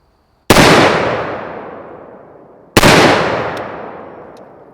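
Two sharp, loud shots from an Armalite AR10 rifle with an LMT long flash hider, firing 150-grain .308 rounds, ring out about two seconds apart outdoors, each followed by a long decaying echo.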